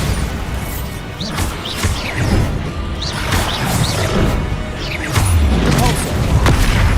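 Spells cast in Hogwarts Legacy combat, including the Bombarda explosion, arrive as repeated booms, whooshes and crashes layered over a busy fight with continuous effects.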